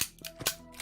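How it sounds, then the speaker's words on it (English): Short bursts of SMG fire from the turn-based game Quasimorph, played on Unfair mode: three or four sharp, clipped shots spaced across under a second over a faint tonal game backdrop, with no talking. "Could step here and fire. Gun is using an SMG."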